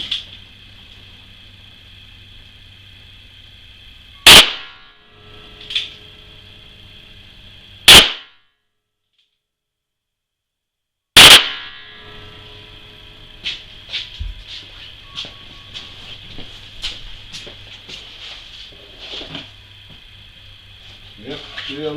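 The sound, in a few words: 357 Magnum shots from a Blackhawk revolver into sand trap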